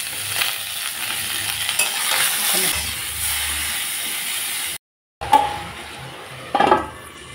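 Hilsa fish frying in a pan with eggplant, green chilies, turmeric and salt gives a continuous close sizzle and hiss with stirring scrapes, a brief silent break, then more sizzling bursts.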